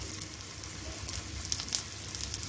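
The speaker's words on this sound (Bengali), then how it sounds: "আমি ট্যাকোস ভেজে নিচ্ছি, তার জন্য আমি প্যানে সাদা তেল দিয়ে দিচ্ছি" Tacos fry in hot white oil in a pan over a medium gas flame, giving a faint, steady sizzle with soft crackles and no voices.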